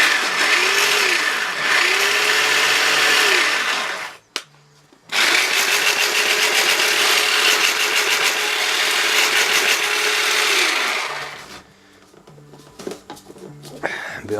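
A blender blitzes material into ground cover for a Fall Guy truck diorama, running loud and close in two long whirring bursts with a brief pause between them, then cutting off.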